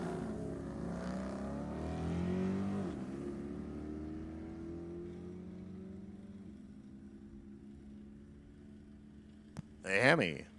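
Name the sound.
Hemi drag racing car accelerating down the strip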